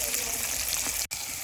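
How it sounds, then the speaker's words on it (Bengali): Fish fries in a pan for a Bengali fish curry with ol-kopi, giving a steady hiss and sizzle with a brief cut near the end. "ভালো করে আস্তে আস্তে লাল লাল করে ভেজে নেব দুও পাশ"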